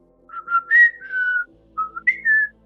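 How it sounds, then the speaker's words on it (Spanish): A person whistles a special melodic call, a short tune of clear sustained notes rising and falling in two phrases, alone without speech. "Teníamos un silbido especial."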